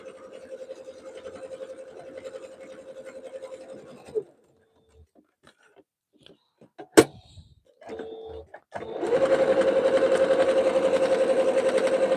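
A sewing machine runs a serpentine stitch on a fabric soup bowl cozy, a steady close whirring hum for about four seconds, a pause with small handling clicks and a sharp knock, then the motor starts again and buzzes on evenly to the end.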